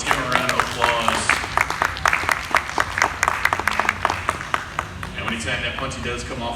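An audience applauds a live glassblowing demonstration with a dense, close patter of many hands clapping. Voices come through under the clapping, which fades slightly toward the end.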